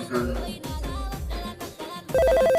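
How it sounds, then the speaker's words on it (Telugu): Music plays, then a phone ringtone cuts in loudly with a rapid, repeating electronic trill near the end. "ఫోన్ వస్తుంది పెట్టి తీసుకో"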